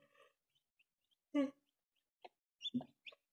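Newly hatched Black Orpington chicks give scattered high peeps and chirps, faint and sparse, with a few lower clucking sounds among them in a quiet room.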